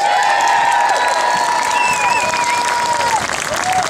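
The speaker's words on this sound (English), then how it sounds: "Give yourselves a round of applause" A crowd at an outdoor rally defending a cross monument claps and cheers in a loud, continuous wash, with sustained whistles and shouted voices rising over the steady clapping.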